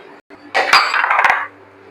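Metal clatter as cooked ash shoot is scooped out of a metal pot while making Middle Eastern majboosh meat, a burst of scraping clinks lasting about a second, close and fairly loud.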